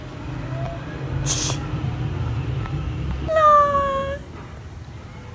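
A village cat gives one clear, drawn-out meow partway through, close by, over faint background hum and a brief rustle.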